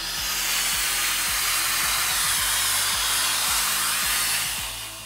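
An electric air blower used for cleaning camera sensors and dust runs continuously with a loud, steady whooshing roar, a regular motor pulse beneath it, before it begins to wind down at the end.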